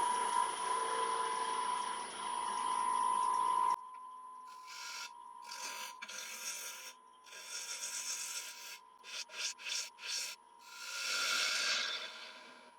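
An applewood blank spins on a wood lathe at about 1000 RPM while a tool is pressed against it. A steady hum and rasp give way to a run of separate scraping cuts, close and loud, with no talking.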